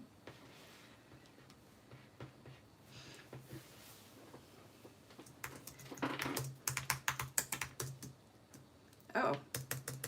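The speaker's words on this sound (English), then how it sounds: "I forgot my keyboard isn't working right." Bursts of rapid key clatter on a tiny, expensive computer keyboard that is not working right, starting sparse and growing louder and denser in the second half, with a brief quiet gap near the end.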